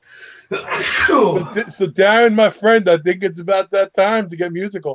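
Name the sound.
sneeze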